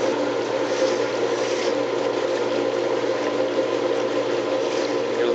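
A 1959 KitchenAid KD-12 dishwasher runs its wash cycle, a steady loud churning of spraying water with a constant motor hum, unbroken throughout with no voices.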